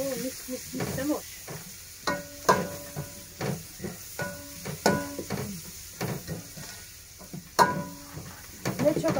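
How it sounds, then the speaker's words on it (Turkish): Onions frying in a pan on a wood stove, stirred with repeated scraping clatters of the utensil over a soft sizzle, with people talking in the background. "soğanı karıştırayım ben"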